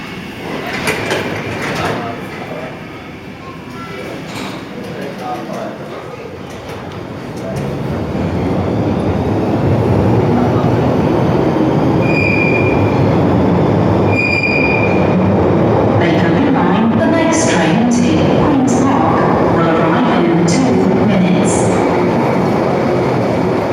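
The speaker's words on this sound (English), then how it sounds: "And now we get off of the train, and here's the train leaving." A London Underground train pulls away from the station. Its rumble swells from quiet to a loud, sustained roar, with high wheel squeals and brief tones, and faint voices early on.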